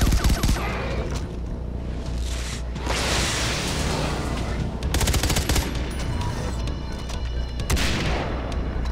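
Dense bursts of gunfire and booming blasts from the video game Far Cry 3 Blood Dragon, loud and continuous with rapid machine-gun volleys and whooshes throughout, a voice occasionally audible underneath.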